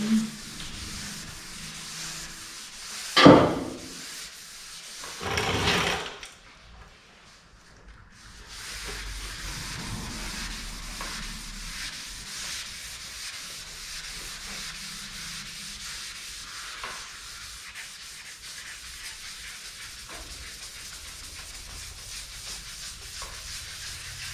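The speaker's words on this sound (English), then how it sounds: "Sanding on a fender." Steady wet sanding of a car fender, rasping in continuous rubbing strokes, preceded by a few louder scrapes and bumps at the start.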